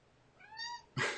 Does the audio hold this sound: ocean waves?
no